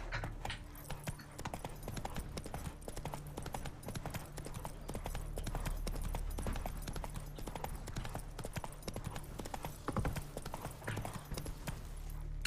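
Horse hooves clip-clop at a steady gallop in The Witcher 3: Wild Hunt, a continuous rhythmic pounding close to the listener with an occasional snort, playing alone with no speech.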